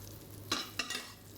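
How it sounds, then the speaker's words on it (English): Hot butter sizzles in a pan as it is spooned over battered brie being pan-fried, with a low steady fizz broken by three short, bright scraping bursts. "pour some of the butter over the"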